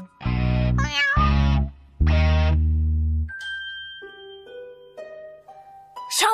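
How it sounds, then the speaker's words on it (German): A cartoon cat meows loudly in a few drawn-out, wavering cries, followed by a string of bright chiming, tinkling tones from the animated German children's show. "Schau mal, Mieze, eine schöne, große, leckere Maus."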